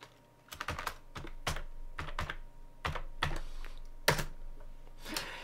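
Fingers typing on a computer keyboard to enter search text on a website, a series of close, crisp key clicks in irregular bursts with short pauses between them.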